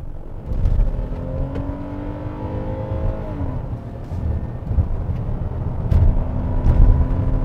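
A 2020 Hyundai Palisade 3.8 gasoline SUV accelerates in sport mode, its engine hum rising steadily in pitch over constant road and tire noise heard from inside the cabin.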